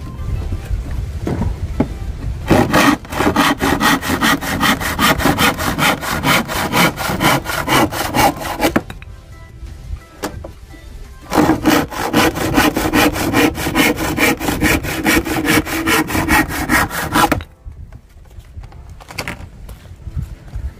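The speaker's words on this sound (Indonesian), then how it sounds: "Sekarang kita uji coba gergaji yang sudah kita modifikasi dengan menggunakan alat pelicin yaitu sabun ya teman-teman." A hand saw lubricated with soap cuts through wood in fast, even back-and-forth strokes, loud and close. Two long sawing runs are split by a short pause, with a few scattered scrapes at the end.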